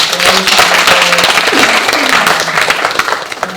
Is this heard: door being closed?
no